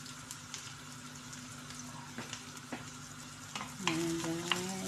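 Onions sauté in a pan for chicken soup with cabbage, a quiet steady sizzle and crackle under occasional scrapes and clinks of stirring, with a tonal hum rising near the end.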